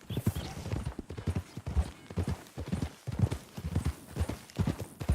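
Horse hooves clip-clop in the Red Dead Redemption 2 video game, a quick uneven run of close, hollow hoof beats that continues throughout.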